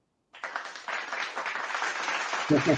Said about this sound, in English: I'm gonna applaud now.